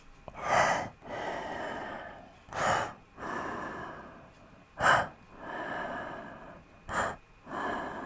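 A voice imitates the devil's heavy breathing with slow, deep, rasping inhales and exhales repeated about five times, close and alone.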